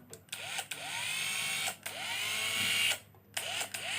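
A Hoki electric screwdriver whirs in short powered runs with a high motor whine that spins up and winds down several times, separated by brief pauses, close and alone.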